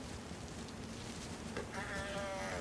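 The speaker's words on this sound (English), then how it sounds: "there were no admin who had ever added these goats" Goats bleating in the DayZ video game, a brief wavering bleat rising near the end over a steady, noisy background hiss.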